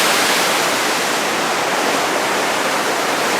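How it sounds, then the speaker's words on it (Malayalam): A Würzburg river weir with water crashing down hard, making a dense, unbroken rushing roar, loud and close, with no talking. "എത്ര ഫോഴ്സിലാണ് വെള്ളം വീഴുന്നത് നോക്കി."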